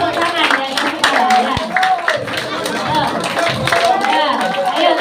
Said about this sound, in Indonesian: Ya, terus tepuk tangan di atas kepala.